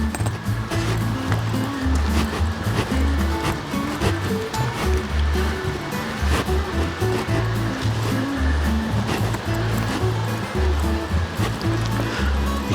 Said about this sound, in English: You can hear the river running there.